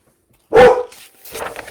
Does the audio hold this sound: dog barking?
yes